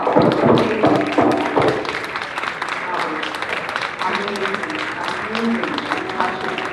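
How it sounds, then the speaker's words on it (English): Audience applause for a national dance ensemble at a memorial performance, with clapping spread across the room, strongest at the start and softening over several seconds beneath murmuring voices and crowd noise. "the National Dance Ensemble and Colette Elwa deserve a huge round of applause"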